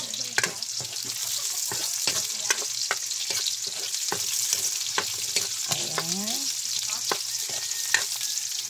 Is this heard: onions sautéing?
yes